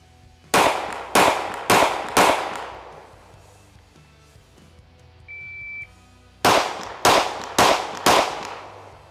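Springfield Armory Echelon pistol fired one-handed: four sharp, loud shots in quick succession, a pause with a brief electronic beep, then four more evenly spaced shots ringing out close by.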